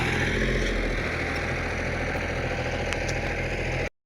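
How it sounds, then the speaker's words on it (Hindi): A tractor engine running during field ploughing, a steady close rumbling idle with even vibration for about four seconds before cutting off abruptly, with no talk over it. "ट्रैक्टर निकाल के"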